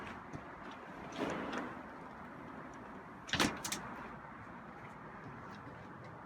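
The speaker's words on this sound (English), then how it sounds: "Let me close the door." Indoors, a door slides with a soft scrape and then shuts with a single firm thump, close and moderately loud against a quiet room.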